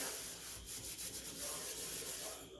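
Soft, steady scrubbing close up with a net scrubber around stove burners, a rough rubbing scratch repeating in quick strokes against a hard surface, with no voices.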